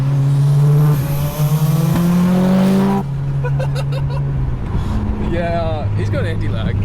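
Loud Mitsubishi Evo 9 fitted with a Tomei titanium exhaust and anti-lag, a sustained harsh engine drone that drops off into sharp popping and crackling bursts, with people talking over it.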